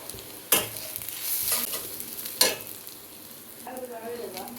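Onion browning in a pan while spices are roasted for a festive Puran Poli meal, with soft steady sizzling broken by a few sharp stirring scrapes, close and moderately loud, no talk.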